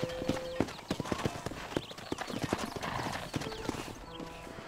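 Horse hooves clip-clop steadily on the ground in Red Dead Redemption, a quick rhythmic series of hoofbeats under game ambience and a brief tonal sound at the start.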